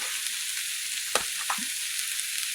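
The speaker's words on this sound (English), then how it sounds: "at this point, that roux is going to get nice and brown" A roux sizzles and browns in a pot, giving a constant close frying hiss with a couple of brief stirring knocks and no voices.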